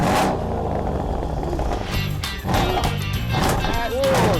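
Mercedes E63 AMG with a custom mid-pipe exhaust fires up, a loud broadband crack and rumble settling into a throaty, uneven idle with sharp bursts, while people talk nearby.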